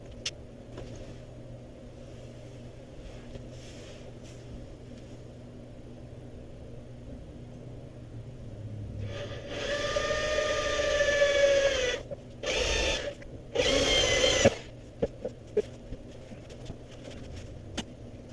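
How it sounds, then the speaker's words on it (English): A drill bores a hole in a Pontiac Firebird in a garage, a faint quiet hum giving way to a few loud whirring bursts of a few seconds each, then short sharp clicks. "Okay, now we drill another hole."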